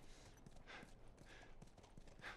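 Steady horse hooves clopping in a regular trotting rhythm in The Last of Us Remastered, fairly close, with a soft ambient background and no voices.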